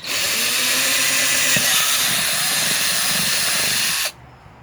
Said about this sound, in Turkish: Teneke ve plastiklerde aynı matkap ucu kullanıyoruz.